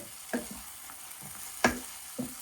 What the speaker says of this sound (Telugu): అల్లం పేస్ట్ వేసాక చూసారు కదా, టమాటాలు కూడా చక్కగా మగ్గిపోయినాయి.